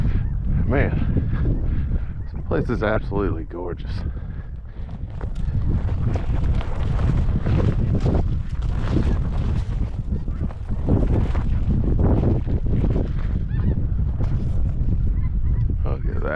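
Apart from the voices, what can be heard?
flocks of snow geese honking overhead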